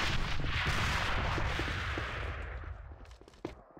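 A gunshot from the shooter game AVA rings out loud and close, with a booming burst that tails off into a long echo before fainter pops follow.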